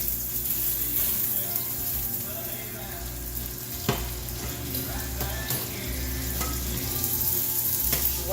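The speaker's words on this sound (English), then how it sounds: "I have to cook my seafood in butter or ghee." Butter sizzles and fries steadily in a hot pan before seafood goes in, a loud continuous crackle with occasional clinks of utensils and no talking.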